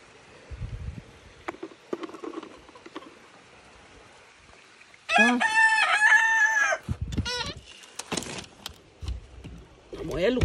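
Hens cluck and a rooster crows loudly in a backyard hen yard, the crow long and close amid scattered clucks and soft rustling, with a person speaking now and then.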